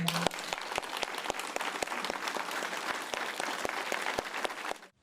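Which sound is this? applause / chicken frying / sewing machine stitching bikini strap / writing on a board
applause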